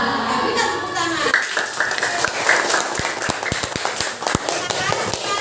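Fifth-grade primary school pupils in a classroom give a short, uneven round of hand clapping for a classmate, scattered claps starting after a moment, close by, with voices talking around them.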